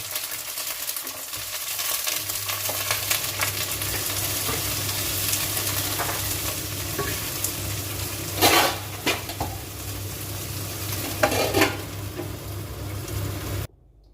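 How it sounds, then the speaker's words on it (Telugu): Paneer fries with green peas in a pan, a continuous close sizzle under a low steady hum, broken by a few louder scraping stirs, then cutting off abruptly. "పన్నీరు బాగా ఫ్రై అయింది ఇప్పుడు కొన్ని పచ్చి బఠానీస్ వేసుకుంటున్నాను"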